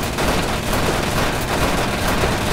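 Gunfire from the vehicular combat video game Death Skid Marks: a loud, continuous barrage of rapid shots and noise filling the whole moment with no pauses.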